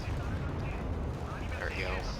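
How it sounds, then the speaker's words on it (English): Rocket fire in the video game Wargame: Red Dragon, a dense rumbling barrage of booming launches and blasts that continues without a break throughout, with voices talking over it. "So let's just fire some more rockets at them."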